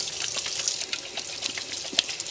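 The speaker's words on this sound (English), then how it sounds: "I'm going to wash my hands here before I touch the dry pasta." Hands are washed under a running kitchen tap, a steady close stream of water splashing and spattering with small irregular bursts as the hands move through it.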